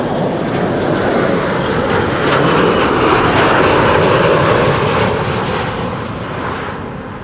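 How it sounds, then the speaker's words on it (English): A Transavia airliner arriving from Barcelona lands at Amsterdam Schiphol in windy weather, its engine roar swelling loud and close, then slowly easing off. "Transavia flight 5132, the TRA8H, arriving from Barcelona"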